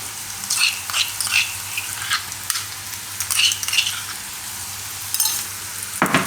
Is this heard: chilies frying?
yes